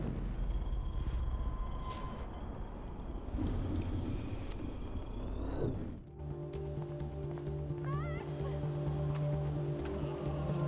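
In the Life is Strange video game, a train approaches with a rumbling, windy roar for several seconds before the scene cuts abruptly to quieter, tonal game sounds.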